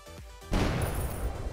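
Sudden loud explosion in the artillery game Shellshock Live, a sharp broadband blast that cuts in after a brief quiet stretch of soft tones and rumbles on with a dense, noisy tail.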